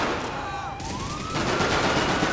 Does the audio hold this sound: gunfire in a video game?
yes